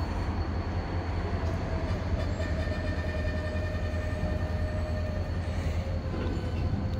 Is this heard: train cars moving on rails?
yes